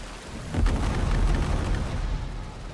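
Naval cannon volley fired from a sailing ship in World of Sea Battle, heard as a deep rumbling boom that swells after a short lead-in and rolls on loudly for the rest of the moment, with no voices.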